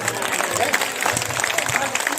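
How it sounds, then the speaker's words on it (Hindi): Audience clapping at a Jat community Diwali poetry gathering: a dense, continuous patter of many hands filling the hall, with a voice speaking over it. "सारा सदन खड़ा होकर ताली बजाए"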